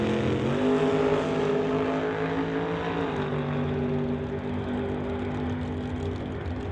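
A Studebaker door slammer drag race car makes its run at a drag strip, a loud, sustained engine roar that holds a high pitch, then shifts down slightly and carries on.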